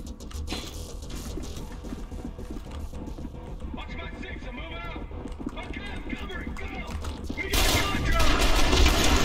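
Shotgun fire in the first-person shooter Selaco comes as loud bursts and mechanical clacks amid dense game sound, with a voice talking over it and a sharp noisy surge near the end.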